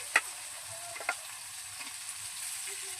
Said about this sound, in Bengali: টমেটোটা কাটা আছে, টমেটোটা দিয়ে দিলাম।